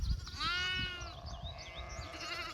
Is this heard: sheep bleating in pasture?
yes